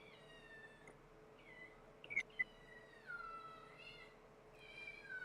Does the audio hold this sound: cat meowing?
yes